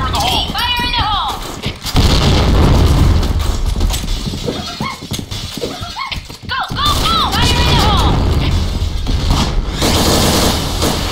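Grenade blasts in the shooter game Point Blank go off as loud, heavy booms amid constant gunfire clatter and shouted radio callouts from in-game voices.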